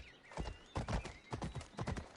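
Horse in Assassin's Creed Odyssey, hooves clip-clopping in a quick galloping rhythm close by, with a whinny rising over the footfalls.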